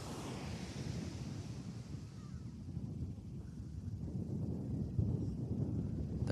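Ocean surf rolls in as a steady, dense wash of breaking waves with wind noise mixed in, continuous and fairly loud throughout with no voices.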